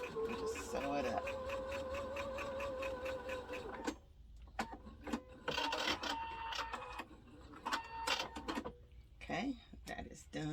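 A sewing machine stitches a dart on a handmade memory bear, running in a steady burst and then in short stop-start spurts, with a voice talking over parts of it.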